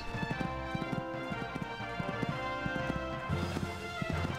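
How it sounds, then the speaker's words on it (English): Horse hooves canter in the video game Horse Olympics, a steady clip-clop rhythm of repeated thuds over a continuous game music bed. "Cantering along this part now."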